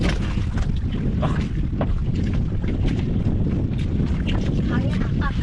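Strong wind buffets the microphone in a loud, continuous roar on a fishing boat, with faint voices briefly audible underneath.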